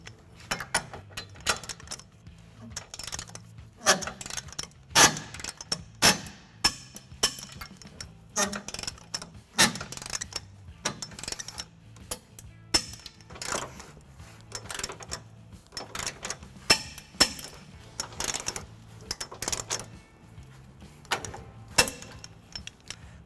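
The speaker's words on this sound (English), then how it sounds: "we're just going to tighten and torque all of our bolts to the manufacturer specification" A 19mm socket on a 5-inch extension tightens trailer hitch bolts on a 2019 Toyota Tacoma, giving close, uneven ratcheting clicks and sharp metallic clinks in bursts with brief pauses between them.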